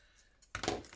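Blade cutting through wax-coated journal paper, a short sharp crisp rasp that starts abruptly after a near-silent moment and grows louder toward the end.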